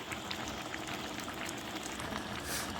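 Rice and lentils bubbling in a rice cooker for chicken bhuna khichuri, a steady close seething and popping hiss with no pauses throughout.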